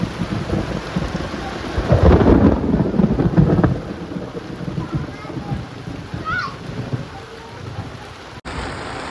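Heavy rain drums down with a loud rumble of thunder early on, then settles into steady downpour while people talk nearby.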